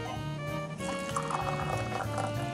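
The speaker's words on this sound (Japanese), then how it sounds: "私は先にお湯を入れる派になりますね。" Hot water being poured into a glass to make a hot-water mix of kokuto brown-sugar shochu, a soft continuous close pour with a rising, bubbling fill sound.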